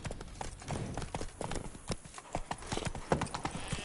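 Hoofbeats of a horse galloping in The Witcher 3 pound out a fast, steady rhythm up close, with the clatter of each stride clearly audible over a faint background.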